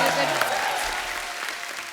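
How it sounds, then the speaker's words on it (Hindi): Studio audience applause on The Kapil Sharma Show comedy set, a loud, dense burst of clapping filling the room for two seconds and tapering slightly, with a voice faintly mixed in. "तालियां जोरदार होनी चाहिए।"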